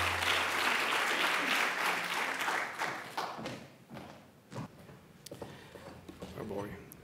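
Audience applause welcoming a speaker at a corporate allyship conference, a loud burst of clapping that fades after a few seconds into scattered thumps, taps and talk as the speaker takes the stage.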